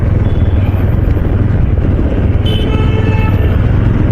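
Dense road traffic in Hinjewadi hums steadily at close range, with car horns tooting briefly over the constant engine rumble.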